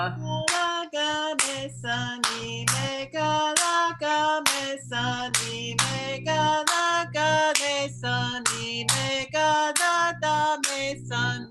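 Hand claps keep a raga rhythm during an Indian classical music practice session, sharp regular claps marking the beat under sung sargam syllables and a steady drone.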